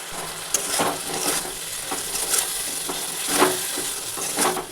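Potatoes stirred in a pan with onion and tomato paste, cumin-coriander and ginger pastes, turmeric and chili powder, with steady frying sizzle and repeated spoon scrapes and taps against the pan, close and fairly loud.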